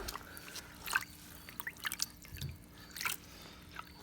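Water drips and trickles faintly while an air filter is rinsed, with scattered soft splashes and patters at irregular intervals against a quiet background.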